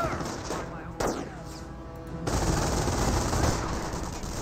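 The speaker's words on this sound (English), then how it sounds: "great suppression coming out by the MG42" MG42 machine gun fire in Company of Heroes, a continuous rapid rattling stream that grows heavier and louder in the second half, mixed with dense battle noise.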